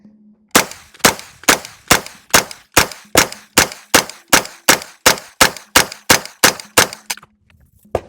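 AK-47 rifle fires about fifteen sharp, evenly spaced single shots in a steady rhythm, loud and close outdoors, with a brief quiet gap before the string and faint sound after it ends.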